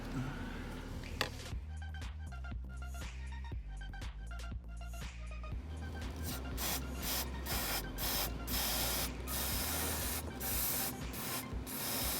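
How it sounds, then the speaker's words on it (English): Repeated short hissing bursts of aerosol electrical cleaner sprayed onto an oily camshaft position sensor plug on a Nissan Xterra 4.0, first in quick pulses, then longer continuous sprays close to the microphone. "you can just spray this plug because there's a bunch of oil in there"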